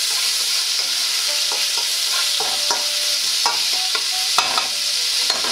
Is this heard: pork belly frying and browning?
yes